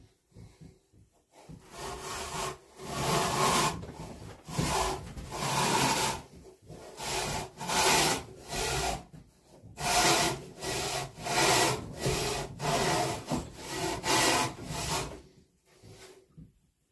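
A handsaw cuts through a full-body deer mount form in a long run of rhythmic back-and-forth rasping strokes, loud and close, with brief pauses between bursts and no speech.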